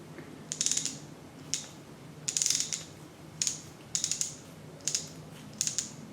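Ratchet and pawl clicks come from a Barient 28 sailboat winch being taken apart, sharp metallic clusters of clicks in irregular bursts, close and fairly quiet, with no speech.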